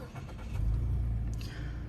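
A 2021 Mazda3 2.0 sedan engine cranks and fires, a close low rumble that swells after a brief starter whir, then settles into a steady idle.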